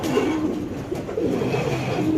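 Pigeons coo softly in low, throaty murmurs that repeat through the clip against a steady background hum.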